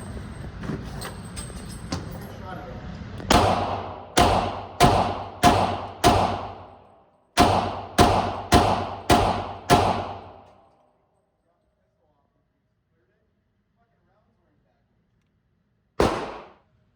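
A Glock 22 pistol fires 180 grain rounds, two quick strings of five sharp shots with ringing decays, a long pause, then one final shot, close and loud.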